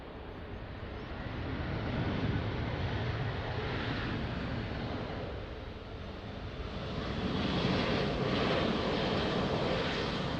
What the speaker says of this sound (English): The landing aircraft on final now, short final runway 20